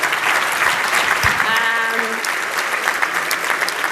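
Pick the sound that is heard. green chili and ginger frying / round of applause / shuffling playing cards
round of applause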